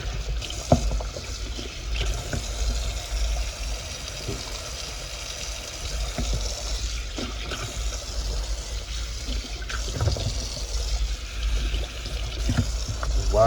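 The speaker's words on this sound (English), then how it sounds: "So you just wash off the outside salt" Dried salt cod is rinsed under water to wash off the outer salt. Water splashes and trickles continuously and close by, with scattered knocks and sloshes as the fish is handled, and no voices.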